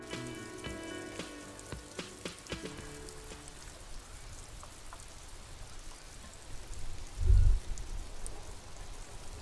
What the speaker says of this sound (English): All around you, rain falls on the great city of Revachol